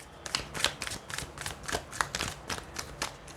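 Tarot cards being shuffled by hand close up, a brisk run of about a dozen papery riffles and slaps at an even, quick rhythm with no talking over them.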